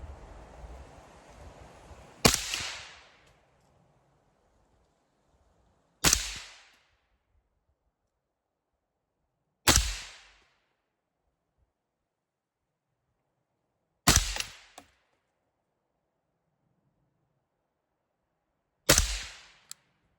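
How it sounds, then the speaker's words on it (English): Five sharp rifle shots from a rifle fitted with a Vltor A5 buffer system ring out, each a loud crack with a short echoing decay, spaced several seconds apart against silence. "let me shoot a couple of rounds and see how close we are to"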